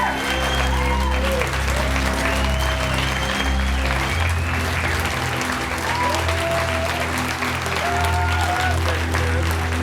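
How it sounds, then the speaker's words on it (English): A conference crowd claps for the winner of a Stellar Citizen Award in Philanthropy and Education, a dense, loud, continuous wall of applause over a low steady hum, with faint whistles and cheers mixed in. "Big round of applause."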